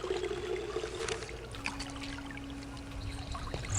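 Water pouring and trickling into a container to fill it in the Indiana Jones video game, a steady close splashing stream lasting several seconds with a faint tonal hum underneath.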